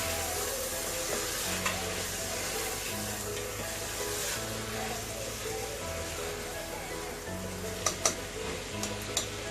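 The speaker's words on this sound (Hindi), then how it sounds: "ये तिलकुट के अंदर ये वाल भी भूनूंगी।" Val beans roasting in tilkut with onion in a pan, giving a steady dense sizzle with occasional stirring scrapes and a few sharp clicks near the end, loud and close throughout.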